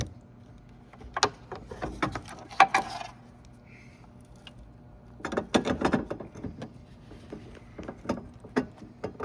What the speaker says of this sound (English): Line up the tabs, turn it clockwise to lock it into place.